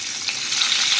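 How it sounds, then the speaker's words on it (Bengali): Hilsa fish fries in oil left over from frying potato and pointed gourd, a loud, close, continuous hiss of sizzling that lasts only a moment. "এবার ওই আলু পটল ভাজার তেলের মধ্যে আমি মাছগুলোকে একটু ভেজে নেবো হালকা করে।"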